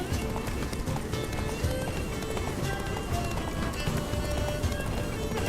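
Roach the horse galloping in The Witcher 3: Blood and Wine, a fast steady drumming of hooves with a brief whinny, loud and continuous under game music and effects.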